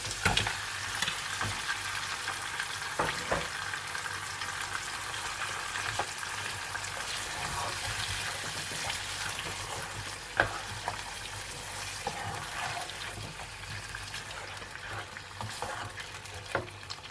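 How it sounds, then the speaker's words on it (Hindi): Meat for bhindi gosht frying over a medium flame with a steady, dense sizzle, punctuated by occasional clinks and scrapes as it is stirred. "इसके बाद मैं ऐड कर दूंगी गोश्त।"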